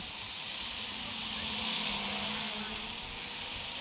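An Asbww LM01 GPS drone under 250 g flies nearby, its propellers giving off a steady high whirring hiss that swells slightly and then eases off, with no voices.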